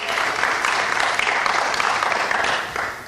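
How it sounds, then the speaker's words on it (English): Applause from an audience at a political speech, a loud, dense burst of clapping lasting about three seconds and fading slightly at the end. "Give yourselves a round of applause."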